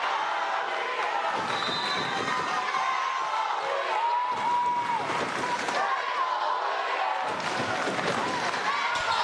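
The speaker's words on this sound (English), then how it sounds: "We got a little cheer off here in the gym." A crowd in a school gym cheers during a boys' high school volleyball finals match, Hilo against Kamehameha, with bursts of noise rising and falling behind steady commentary.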